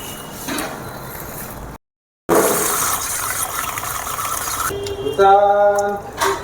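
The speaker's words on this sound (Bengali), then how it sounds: "এবারে আমি চিকেনটা ধুয়ে নেব" Raw chicken rinsed under a running tap in a kitchen, with a steady hiss of flowing water, a brief break, then continued splashing and a few clunks near the end.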